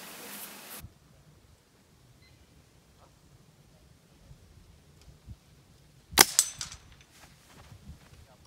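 Shots from a Weihrauch HW77 air rifle fitted with a V Mach tuning kit: one sharp crack followed by a few quick clattering ticks near the end of a mostly quiet stretch, with a short burst of noise at the very start.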